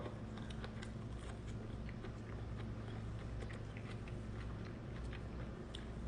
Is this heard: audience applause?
no